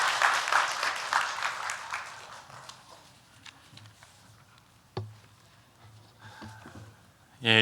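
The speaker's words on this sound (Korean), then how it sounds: "박수 한번 하겠습니다" Congregation in a church breaking into brief applause that fades within a few seconds, followed by a quieter room with scattered knocks and thumps.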